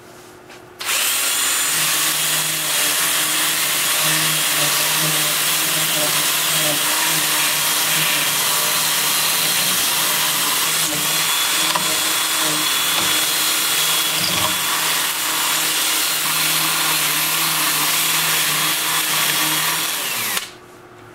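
Power sanding of an oak burl on a wood lathe with a sanding disc, a steady loud whirring drone with constant grinding hiss running nearly unbroken from start to end, no talk.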